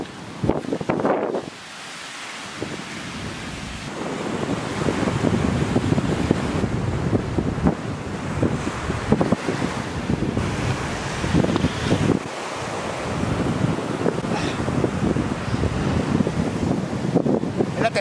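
Sea waves and wind roar on a Caribbean beach at Xcacel, a sea turtle nesting beach, as a loud continuous rumbling wash with gusty wind noise buffeting the microphone.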